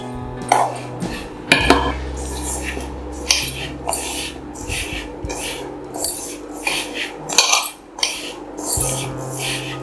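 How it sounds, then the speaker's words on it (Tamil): A metal ladle clinks and scrapes against a pan while stirring hot aval laddu mixture, giving repeated short knocks and scrapes at close range with no talking. "இந்த மாதிரி ஒரு கரண்டியை வச்சு லேசாக கிளறிட்டு அதுக்கு பிறகு லட்டு பிடிச்சிக்கலாம்"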